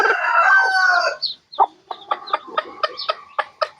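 Free-range mother hen giving a run of short, rhythmic clucking calls to her chicks at feeding time, close by, following a brief louder rooster-like crow at the start.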